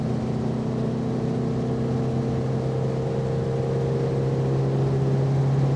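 A Renault Dauphine 1093 engine holds high revs under steady acceleration, its drone loud, continuous and close, climbing slightly in pitch over the stretch with no talk.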